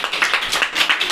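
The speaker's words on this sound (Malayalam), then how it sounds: "Very good. Clap your hand." Children clapping their hands in an online class, a quick, steady patter of many close claps lasting about a second.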